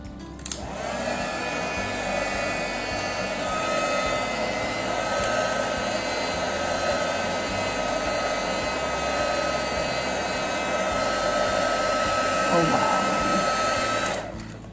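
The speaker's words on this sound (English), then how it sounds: "I will place my heat resistant tweezer and I will use the heat tool" A craft heat tool blows hot air onto shrink plastic held with heat-resistant tweezers, giving a steady, loud, hairdryer-like whoosh with a high whine that runs unbroken from start to finish.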